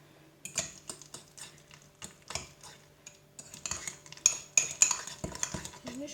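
A spoon clinks and scrapes against a cup or bowl while stirring a homemade cough remedy mixture, giving a quiet, irregular series of taps and scrapes.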